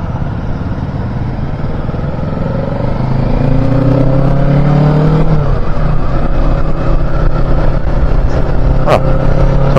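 A 2023 Kawasaki Ninja 650 motorcycle accelerates hard in second gear, its engine note rising steadily in pitch as it revs up close and loud, with wind rush underneath and a brief knock near the end.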